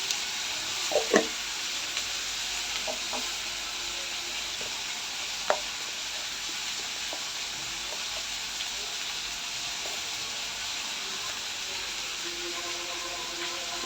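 Drumsticks (sajne) with turmeric and salt steam under a lid on the stove, giving a steady soft hiss with a few faint clicks and taps near the start.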